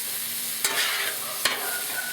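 Ground meat frying on a Blackstone griddle for homemade lasagna, a steady close sizzle with two sharp scrapes of a spatula stirring it, no voices.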